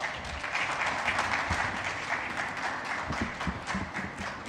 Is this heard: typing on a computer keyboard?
no